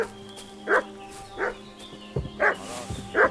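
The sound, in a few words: dog barking and fussing, from a video game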